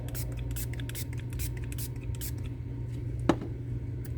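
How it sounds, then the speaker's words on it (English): Repeated short hissing sprays of alcohol in quick bursts over a steady low hum, followed by a single knock. "I'm going to spray this down with alcohol."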